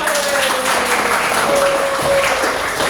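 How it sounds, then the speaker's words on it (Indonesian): Classroom of schoolchildren clapping together, a steady dense patter of many small hands filling the whole stretch at close range, with a faint tone running beneath. "Beri tepuk tangan untuk"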